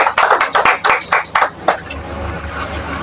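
Audience members clap at a church sermon, about ten quick, uneven claps close together that fade into a murmuring room.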